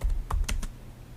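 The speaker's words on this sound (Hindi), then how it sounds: "मैं ज्वेलरी टाइप कर दूँगा" A handful of keystrokes on a computer keyboard, close and quiet, with about four or five sharp clicks in quick succession followed by near silence.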